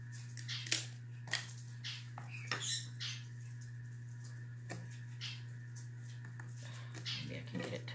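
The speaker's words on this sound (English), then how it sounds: "All I'm doing is taking my scissors and just kind of cutting a piece." Scissors cutting a small piece for a coffee can craft make a series of irregular crisp snips and light rustles, close up over a constant low electrical hum, with sparse quiet gaps between cuts.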